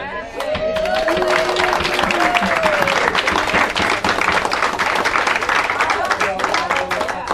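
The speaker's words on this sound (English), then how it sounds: "I think we need to give Patty a big round of applause." A crowd at a family reunion breaks into sustained, loud applause, many hands clapping densely, with a few voices cheering over it near the start.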